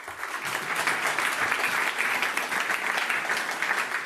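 An audience at a Medef tech evening on medtech applauds a startup pitch, a steady, dense burst of clapping from many hands that holds evenly for about four seconds, with no voices over it.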